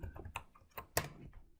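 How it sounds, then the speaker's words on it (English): Keystrokes on a computer keyboard while Terraform code is typed in Visual Studio Code: several light, irregular clicks close by, with one sharper tap near the end and no voice. "I'm going to configure my backend state by typing in the following"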